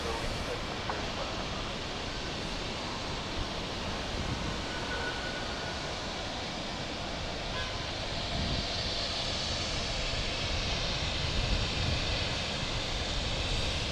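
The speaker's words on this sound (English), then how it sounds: "there's the 757 right there" A Boeing 757 jet at Fort Lauderdale airport makes a continuous broad roar, fairly distant and steady, swelling slightly toward the end.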